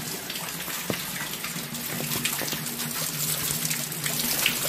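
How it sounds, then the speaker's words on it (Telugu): Rainwater from a shed roof runs through pipes into a pit, a steady close trickle and gush of flowing water with no voices. "షెడ్ మీద పడిన వాటర్ మొత్తం ఈ పైపులతోటి ఇంకుడులోకి చేరుకుంటాం."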